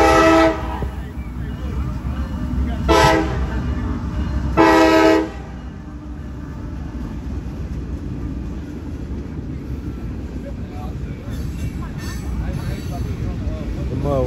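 A train passes near the tracks in Muncie, Indiana, on the Fourth of July, sounding two loud horn blasts over a steady rumble of moving railcars, with people talking nearby.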